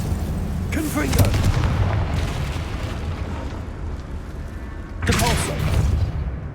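Confringo spell blasts in a Harry Potter video game: two booming, crackling bursts a few seconds apart over a constant low rumble of game ambience.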